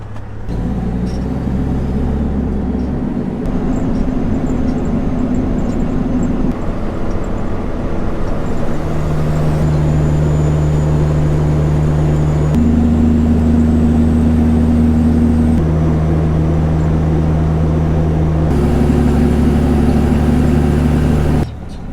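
A loaded salt-hauling truck cruising down the road at night, a steady, loud engine drone with shifting tonal hum as gears and speed change, continuous throughout with no talking.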